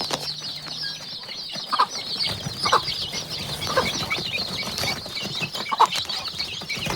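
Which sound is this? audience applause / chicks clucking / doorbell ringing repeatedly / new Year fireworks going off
chicks clucking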